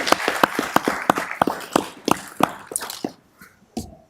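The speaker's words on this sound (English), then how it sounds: "one more big round of applause for all of our winners" City council meeting crowd giving a round of applause to the winners: a few seconds of distinct, fairly sparse claps from a small group, close by, tapering off into isolated final claps.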